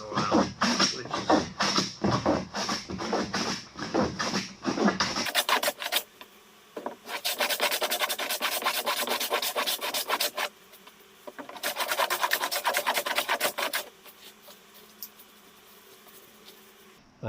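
Hand plane shaving a knotty wooden board, a run of rasping strokes with short pauses between them, close and fairly loud, with no one talking.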